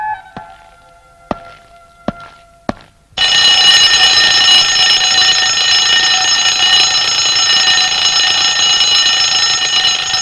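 An alarm clock in an old Malayalam film scene bursts into a loud, continuous electronic ringing after a few quiet taps and knocks. It rings steadily and close by until the end.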